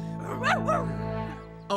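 A cartoon dog from an animated children's show gives a couple of quick, high yelping barks followed by a short whimpering yip, loud and close, with a further bark at the end.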